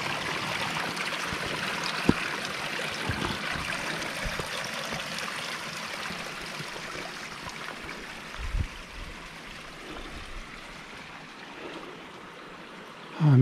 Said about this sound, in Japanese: 水場遠かった